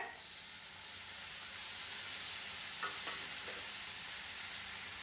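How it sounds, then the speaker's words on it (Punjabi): Onions frying in a pan, browned to light golden, with chopped tomatoes and green chilies going in for baingan bharta: a constant, soft hiss of sizzling with a few faint clinks of stirring. "ਪਿਆਜ਼ ਜੇ ਦੇਖੋ ਜਿਹੜਾ ਹੈਗਾ ਲਾਈਟ ਬ੍ਰਾਊਨ ਹੋ ਗਿਆ ਤੇ ਹੁਣ ਇਸ ਦੇ ਵਿੱਚ ਪਾਵਾਂਗੇ ਟਮਾਟਰ"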